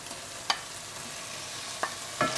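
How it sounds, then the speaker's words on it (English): Tuna pasta sauce stirred in a pan, a soft simmering hiss with a few brief scraping stir strokes, close and alone. "Stir well."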